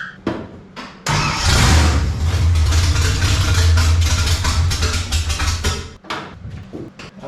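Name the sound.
1955 Chevy small block V8 engine idling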